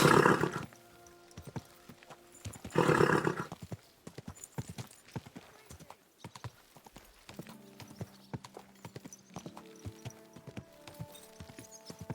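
Horse hooves clip-clop in a fast rhythmic gallop in the video game Kingdom Come: Deliverance II, with two loud whinnying bursts at the start, then steady thudding steps continuing alone.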